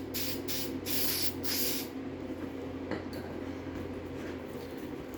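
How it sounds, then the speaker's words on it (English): Hissing bursts from a spray can coating the metal seat frame of a 1973–76 Triumph TR6, several short sprays in quick succession, then a steadier low background hiss. "I'm going to finish spraying the rest of it."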